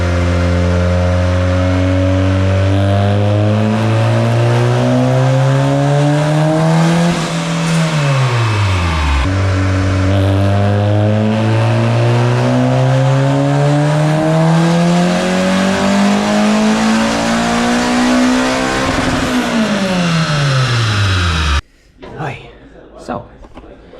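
Turbocharged built-engine car making power runs, a loud engine climbing through the revs in two long sweeping pulls with a brief drop between, then cutting off abruptly, followed by a few faint thumps and brief speech.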